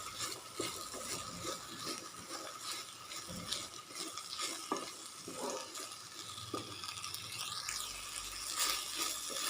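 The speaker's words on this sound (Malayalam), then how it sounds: "ഇത് സവാള നന്നായിട്ടൊന്ന് വഴറ്റി കൊടുക്കാം" Onions sauté with salt in a pan for a biryani, giving a steady sizzle and frying hiss while a spoon stirs and scrapes against the pan, close up with no voices.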